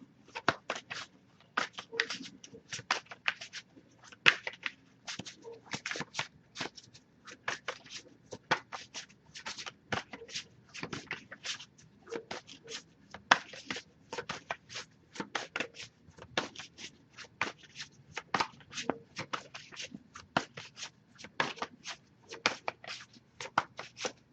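Tarot cards are shuffled continuously, a steady stream of quick papery riffs and slaps close up, with no voices.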